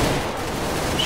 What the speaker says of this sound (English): we got shotgun